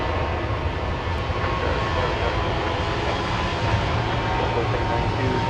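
Steady, loud broadband roar of a Southwest airliner's jet engines as it taxis at Dallas Love Field, a continuous unbroken drone close by with no talking.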